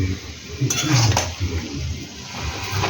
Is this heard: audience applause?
no